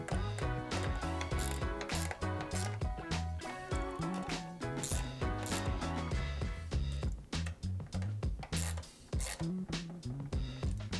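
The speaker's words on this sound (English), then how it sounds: "Carriage bolts head right on in. Tighten it up. Tighten it up." Carriage bolts on a small IQ vise being tightened with a ratchet, giving rapid, close clicking pawl bursts in repeated strokes with brief pauses between them.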